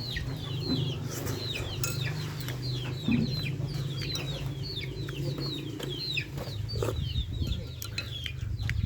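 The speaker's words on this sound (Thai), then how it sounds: "ยินเสียงไก่อยู่" Chickens cluck repeatedly in a rural setting, a run of short clucks and calls over a low steady background hum, moderately near, with no talking.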